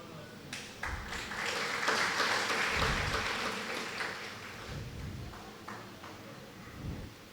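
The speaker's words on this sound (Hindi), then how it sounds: "तो सुनने में ताली बजा रहे हैं यशोधर" An audience at a Hindi spiritual discourse on spirituality bursts into broad, sustained applause that swells and then slowly tapers, loud and roomy.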